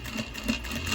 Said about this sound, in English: I'm just going to keep stitching 1/8 of an inch from that edge